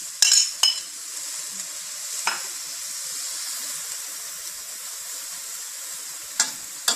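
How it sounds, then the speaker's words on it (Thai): Telosma (dok khajon) flowers stir-frying in a pan with a steady close sizzle, broken by a few sharp clinks of a utensil against the pan, with no talking. "ขั้นตอนต่อไปเขาก็สิน้ำไปผัดเนาะค่ะ แล้วก็เอาดอกขจรใส่มาค่ะจ้ะ"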